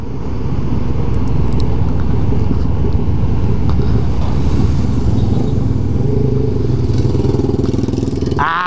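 A Yamaha XT motorcycle accelerating hard at night, its engine roaring loud and close in a continuous drone with rising revs near the end, wind buffeting the microphone.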